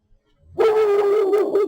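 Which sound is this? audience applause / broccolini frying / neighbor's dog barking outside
neighbor's dog barking outside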